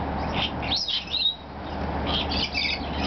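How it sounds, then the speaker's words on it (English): Lorikeets at the Oregon Zoo, heard as faint, scattered high chirps and short squawks over a steady background hiss, a few calls rising sharply and then fading. "Those are real birds."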